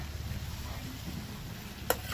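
Fried potato and eggplant are stirred and sautéed in a thick curry, giving a low continuous sizzle with a sharp utensil scrape or clink near the end, no talking over it.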